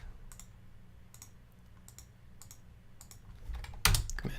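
A computer keyboard in use during Unity level building, with several quick, faint clicking keystrokes spaced through the quiet, then a louder burst of clatter near the end.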